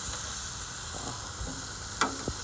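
Food sizzles steadily on a grill in a soft continuous hiss, with a couple of faint clicks and taps near the end, quiet and close, and no voices.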